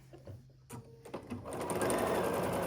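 Sewing machine chain piecing quilt squares: a few soft clicks and handling noises, then a fast steady motor whir of stitching that carries on to the end.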